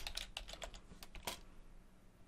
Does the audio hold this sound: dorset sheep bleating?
no